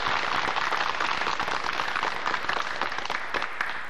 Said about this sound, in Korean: 다시 한번 심창구 식약청장께 큰 박수 부탁드리겠습니다.